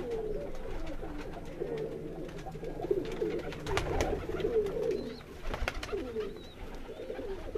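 A pair of rooftop pigeons coo in low, repeated throaty rolls, close and fairly loud, with some shuffling and clatter around them and no talk.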